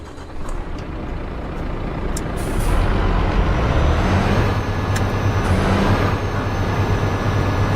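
A truck in a simulator game slows and halts, a sharp air-brake hiss over a low idling engine rumble, steady and close with a couple of brief clicks.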